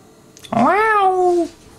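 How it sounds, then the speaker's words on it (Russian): A single loud, close cat meow rises then holds and trails off over about one second, with a quiet background before and after. "Котики!"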